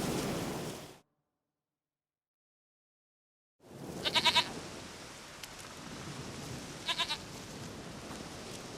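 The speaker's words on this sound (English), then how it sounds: "Goat of mine, dearest, sweetest goat." In The Witcher 3, a goat gives short, bright bleats in two brief bursts over a steady outdoor ambience resembling surf, with a complete silence near the start.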